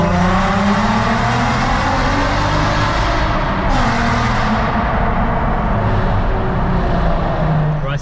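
A straight-piped VW Golf R32 sits revving, its raw, loud exhaust rising and falling through several throttle blips with a sharp rasp, close and unmuffled throughout.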